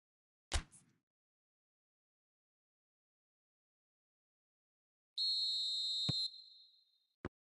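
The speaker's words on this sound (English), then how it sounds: "Whistle goes, and we start the second half." A referee's whistle in the PES 2021 football video game sounds as a single shrill, steady tone lasting about a second, preceded and followed by sharp isolated clicks amid otherwise near silence.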